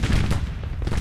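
Civil War cannon artillery in the Grand Tactician strategy game roars in a loud, continuous barrage of overlapping booms and rumbling gunfire with no pauses.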